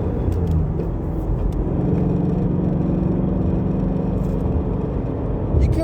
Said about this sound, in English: they got a resonator that runs sound back into the engine cabin